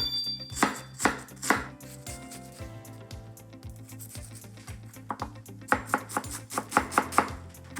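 An onion is chopped finely with a knife on a board: rapid, even taps, near and crisp, coming in bursts that speed up toward the end, over a low steady background hum with no talking.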